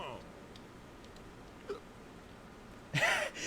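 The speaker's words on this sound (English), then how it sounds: "He has a hiccup. Did you guys hear that?" A game character in the Radiata Stories prototype hiccups: a small, quick vocal catch, then a louder, fuller hiccup near the end, both over a quiet, steady game background.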